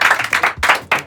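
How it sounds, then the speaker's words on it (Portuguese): A small group claps in a quick, close burst of applause for a good joke, loud and brief with uneven hand claps. "Palmas para o Léo"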